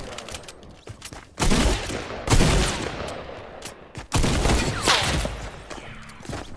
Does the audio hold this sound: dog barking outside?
no